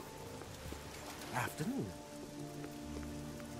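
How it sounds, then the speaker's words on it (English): Rainfall in the game Oblivion keeps up a soft, steady hiss beneath a single spoken word and a brief creature-like call in the middle. "Oh, this rain is horrible."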